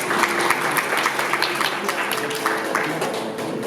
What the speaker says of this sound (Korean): 열띤 박수 부탁드리겠습니다